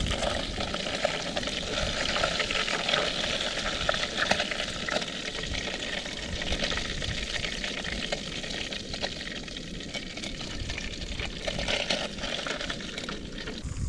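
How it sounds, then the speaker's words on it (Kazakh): Carp fry in oil in a cauldron during an autumn fishing trip, a dense, steady sizzle and bubbling that stays loud and continuous with no voices. "Ал жігіттер, балығымыз қуырылды"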